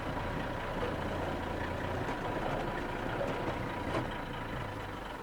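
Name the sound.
Unimog truck reversing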